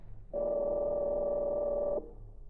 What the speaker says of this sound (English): I have the number of Fender's hotel room. Perhaps I can catch him there now